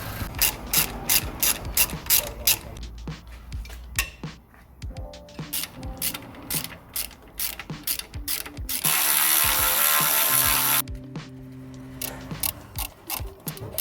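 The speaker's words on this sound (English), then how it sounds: "We're going to take this bracket off as well, 16 mil bolt" A hand ratchet cranks a 16 mm bolt off a bracket on a Fiat Punto Evo during oil sump replacement, with long runs of rapid, close clicking, brief pauses and a stretch of harsher hissing mechanical noise, no speech.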